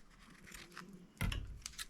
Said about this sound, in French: Je coupe le fil qui est dessous